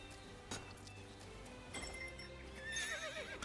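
A horse whinnies in the Dynasty Warriors Origins video game, a short quiet neigh with a faint clip-clop of hooves nearby, no talking.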